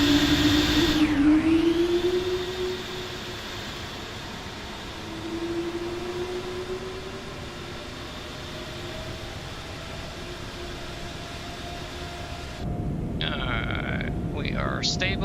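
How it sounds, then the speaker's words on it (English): Airbus A220 jet engines in Microsoft Flight Simulator 2024 spool up with a steady rising whine and broadband roar that holds for several seconds, then a brighter warbling tone joins near the end; the sound stays continuous and moderately loud. "Alright, let's jump out to exterior while I spool the engines up and we'll listen to the whales sing to us a little bit here."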